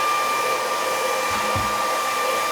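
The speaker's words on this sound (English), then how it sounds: "I think you blew something at me with that blow dryer." A blow dryer runs continuously close by, a loud steady whirring hiss with a constant whine and no break or talk.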